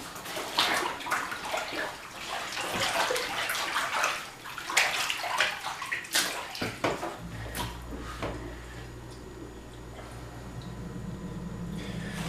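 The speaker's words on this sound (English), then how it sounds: "So I'm going to go back to that kneading process that I did when I first washed it." Rhythmic sloshing and squelching come from hands kneading a down quilt in a tub of water, irregular wet pushes for several seconds, then a steadier running-water hum.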